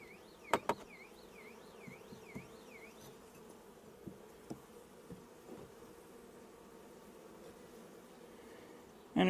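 Honeybees in a new hive split holding a queen cage keep up a steady close buzz, with scattered clicks and taps of frames, a brief warbling tone early on and a loud knock at the very end.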